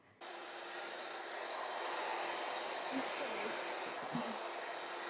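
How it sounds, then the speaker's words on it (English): A hair dryer blows in a steady, loud rush while long hair is brushed through with a Tangle Teaser, with faint handling noises under the airflow. "I'm going to, with the tangle teaser, I'm going to dry the hair."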